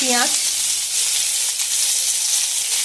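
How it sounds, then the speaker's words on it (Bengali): Onions sizzling in a pan with whole garam masala spices, a dense continuous frying hiss that stays close and steady throughout the short stretch with no talking. "পেঁয়াজটা ভাজা ভাজা হয়ে গেছে"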